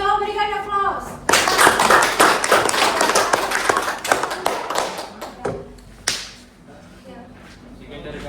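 Classroom applause after a group presentation: a burst of many hands clapping close and loud, thinning into scattered claps before fading, with a voice heard at the start.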